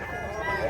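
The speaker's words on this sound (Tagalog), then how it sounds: "Napakagandang manok." A one-year-old rooster from the mountains, offered for sale, gives a short crowing call of under a second, close and moderately loud, with a person talking faintly behind it.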